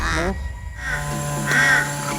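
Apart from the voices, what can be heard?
caw of a white (albino) Philippine jungle crow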